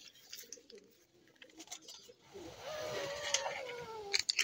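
A fancy pigeon gives a low, soft cooing call up close, preceded by faint rustling and scattered light taps.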